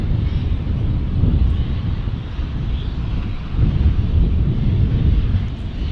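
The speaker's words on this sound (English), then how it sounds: "Our Frontier Airlines A320." Frontier Airlines A320 airliner passing at Dallas Fort Worth International Airport, a loud, steady broadband jet roar with wind buffeting on the microphone and no clear rise or fade across the few seconds.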